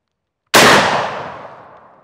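A single loud shot from a Hawken muzzleloader rifle loaded with a lubed 250 grain Lee REAL conical bullet: a sharp blast after brief silence, then a long, fading decay.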